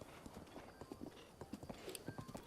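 A horse's hooves clip-clop in Breath of the Wild, a quick, steady patter of hoofbeats at moderate distance, fairly faint overall.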